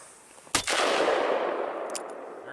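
A Ruger Alaskan .44 Magnum revolver fires a 180 grain Hornady XTP round: one sharp, loud report followed by a long, broad rolling echo that slowly fades.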